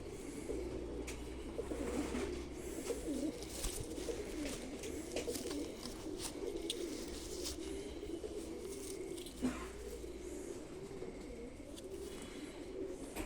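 Pigeons coo softly and repeatedly close by, low murmuring calls over a faint steady background, with no talk.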